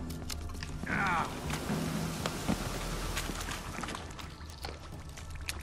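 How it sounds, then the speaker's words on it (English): Steady rain hisses throughout a rainy scene in The Witcher 3: Wild Hunt, a dense constant patter under scattered game sounds and a brief tonal sweep. "Looks like rain, Geralt."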